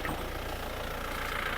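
A car engine idles steadily after a Super Oil Treatment and Repsol Elite oil were added, with a smoky, blow-by condition: a continuous low rumble, close and even, with no talk.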